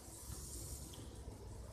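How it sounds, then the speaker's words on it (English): Steam hisses steadily from a BB-8 waffle iron as batter cooks, a continuous soft broadband rush that stays even throughout. "That's not smoke, that's steam."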